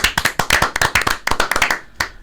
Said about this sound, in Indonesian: Tepuk tangan lagi buat teman-teman semuanya.